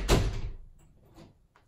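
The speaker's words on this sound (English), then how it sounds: "I'm gonna close this door really fast." A door is shut quickly indoors, giving one sharp, fairly loud thud followed by a couple of fainter knocks and rattles as it settles.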